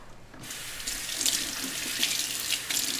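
Kitchen tap water pours steadily into a sink while quail are washed, a close, continuous splashing rush with small fluctuations as hands move under the stream.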